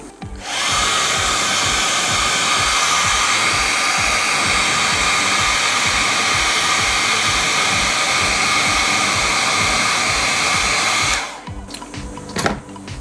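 A hair dryer blows steadily and loudly for about eleven seconds, drying oil paint weathering on a 1/48 F-4E Phantom II model kit, then cuts off, leaving a faint clatter.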